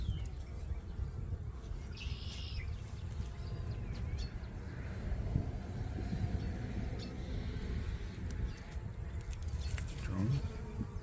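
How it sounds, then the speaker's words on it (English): Honey bees from an open hive hum steadily throughout a spring inspection, a dense buzz close by with occasional light handling noises. "There's enough bees in the seams down there"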